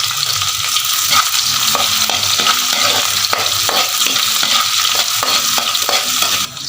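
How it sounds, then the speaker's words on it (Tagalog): Garlic and onion sizzle loudly in hot oil in a pan, a constant crackling fry with regular stirring scrapes throughout. "Igisa po natin yung bawang sibuyas natin hanggang sa lumabas po yung aroma niya."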